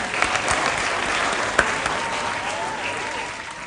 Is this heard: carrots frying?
no